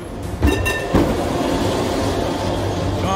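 A tram passes close by on the Kadıköy seaside, a loud, continuous rumble of wheels on rails with a couple of sharp clacks early on, alone without talk.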